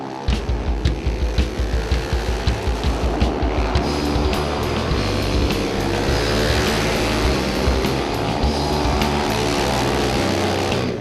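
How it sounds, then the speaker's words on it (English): Race cars roar through a restrictor heat race, starting with rapid pulsing engine revs, then swelling into a continuous loud blended drone of several engines with no talking. "Jalen Estes, pole position in this restrictor heat race"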